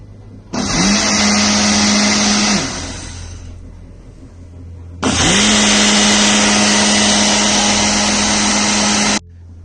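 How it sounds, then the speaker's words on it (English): Countertop blender whirs up an apple and blackberry smoothie in two loud, close bursts, the motor spinning up sharply, holding a steady high whine for a couple of seconds, stopping, then running again for about four seconds. "So yeah, I'm just going to blend these up,"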